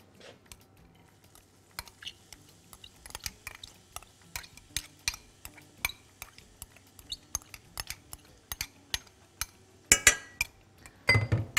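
Onions being stirred in hot oil in a pan, with scattered utensil clinks and scrapes against the metal and a soft sizzle underneath, growing busier toward the end.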